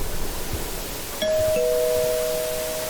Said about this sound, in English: That was the front doorbell.